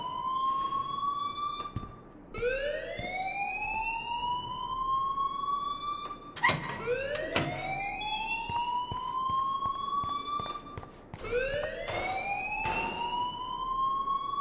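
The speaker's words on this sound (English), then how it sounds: "please turn off that alarm since that's your job" A fire alarm in the video game Life Is Strange wails in long rising siren sweeps that repeat several times, loud and close, with brief sharp clatters between sweeps and no speech.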